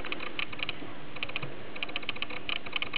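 Keys are tapped in a quick, uneven series on an Arduino home-automation password keypad, close and fairly quiet with a soft hum underneath.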